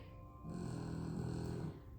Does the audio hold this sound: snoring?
yes